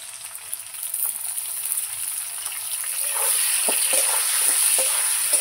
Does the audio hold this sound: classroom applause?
no